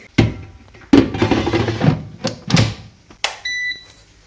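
An air fryer in a home kitchen: several loud clunks and knocks come first, then a short electronic beep rings out near the end, alone and clear.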